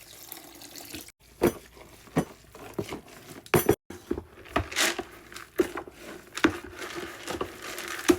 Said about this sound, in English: And I like to add water as needed.